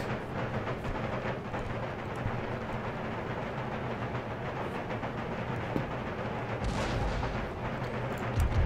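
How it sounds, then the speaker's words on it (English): Artillery in Empire: Total War rapid-firing quicklime shells during a battle near Montreal, a dense continuous rumble of overlapping booms and blasts, loud and steady throughout with a sharper burst near the end. "So just start rapid firing quicklime."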